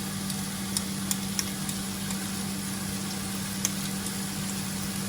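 Butter sizzles in a frying pan with softened shallots, a steady low sizzle with a faint hum beneath, punctuated by a few small pops and crackles.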